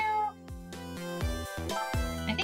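A cat meows in the video game Ghost Trick, a cluster of short bright meows in quick succession, close and clear over a faint musical backdrop, without speech.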